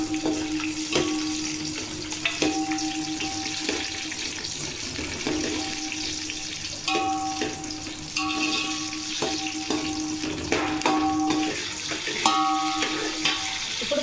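Green chillies sizzle in a pan for coconut rice, giving a steady close frying crackle with scattered clinks and scraping stir sounds over it throughout.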